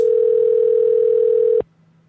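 A telephone tone on a dead prayer line: a loud, steady electronic tone holds for about a second and a half, then cuts off abruptly to near silence.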